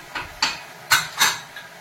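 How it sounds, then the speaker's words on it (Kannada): A pressure cooker lid is shut in a home kitchen, giving four separate metallic clanks and clatters close by, with quiet gaps between them and no talking. "ಈಗ ನಾನು ಕುಕ್ಕರ್ನ ಲಿಡ್ ಕ್ಲೋಸ್ ಮಾಡ್ಬಿಟ್ಟು ಇಡ್ತಾ ಇದ್ದೀನಿ."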